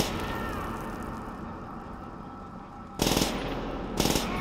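Gunfire in Call of Duty: World at War: after a low background rumble, two short machine-gun bursts crackle, close and clear, about a second apart.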